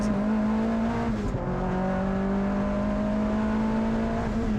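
Stripped-out turbocharged Mazda MX-5 with no carpets or sound deadening driving on a track, a steady loud in-cabin engine drone with a constant tone and busy rattly noise throughout, no talk.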